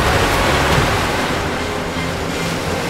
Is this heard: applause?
no